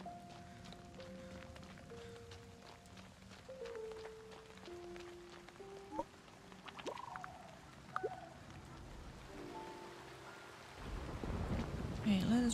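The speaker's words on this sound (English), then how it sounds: "Back to being cold and rainy." Rain and thunder in the farming video game Fae Farm, faint steady rainfall under soft melodic game music and small effect sounds, ending with a deep rumble of thunder swelling in the last seconds.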